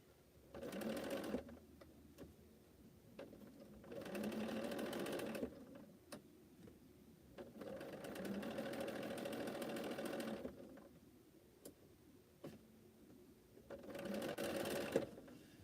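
Quiet home sewing machine stitching curved seams on a Cleopatra's fan quilt block, running in several short bursts separated by pauses, soft and nearby.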